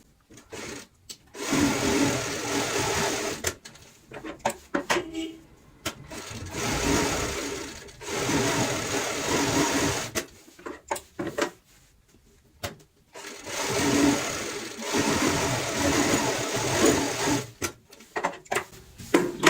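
A sewing machine stitches across the marked lines of a fabric pillow cover, running in three sustained bursts of rapid, rhythmic whirring separated by short pauses and handling noises.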